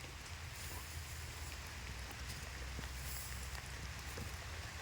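Steady rain falls through a forest plantation of young teak in southern Thailand near Huai Yot, Trang, a soft continuous patter with scattered drop ticks, fairly faint and without voices.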